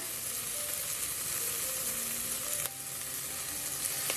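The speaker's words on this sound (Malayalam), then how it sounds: "ഞാൻ ഇതിലേക്ക് ഒരു ടേബിൾ സ്പൂണോളം സോയ് സോസ് ഒഴിച്ചു കൊടുക്കുകയാണ്." Soy sauce hitting a hot pan over high flame for Gobi Manchurian, giving a steady dense hiss and sizzle throughout, with faint clinks and a brief crackle near the end, no talking.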